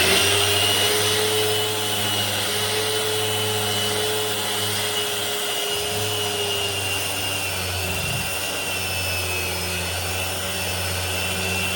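An aggressive power sander works two-part varnish off the cover boards of a 1950 Chris Craft U22 boat, a steady whining drone that holds throughout with slight dips as the tool shifts.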